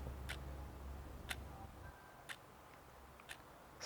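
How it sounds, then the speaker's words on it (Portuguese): A clock ticks quietly in a hushed room, about once per second, four faint sharp clicks over low background hiss. "E o relógio, ele tem esse batimento,"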